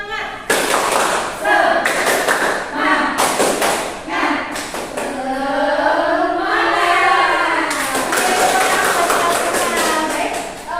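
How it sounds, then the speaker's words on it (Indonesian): A class of schoolchildren performs a rhythmic spirit clap in a classroom, sharp clustered claps in bursts between stretches of loud group chanting and voices, close and energetic. "mari kita tepuk semangat dulu yuk anak-anak."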